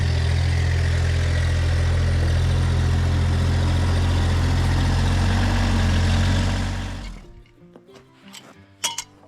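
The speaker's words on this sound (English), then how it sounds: "So you hear the tractor running in the background" A tractor engine idles loud and steady with a deep low drone, then cuts off abruptly, leaving quiet with a few metallic clinks.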